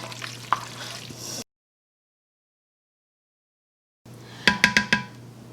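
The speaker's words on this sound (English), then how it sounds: "Mix it all together." Gluten-free meal ingredients being mixed together in a bowl, with soft stirring scrapes, a stretch of silence, then a quick run of close clinking knocks from the utensil.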